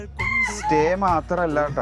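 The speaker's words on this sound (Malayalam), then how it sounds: "ഇതാ നമ്മുടെ കോഴിയുണ്ട്," Rooster crowing on a farm stay in Al Ain with ducks and goats nearby, a few loud drawn-out calls close by, overlapped by a voice talking.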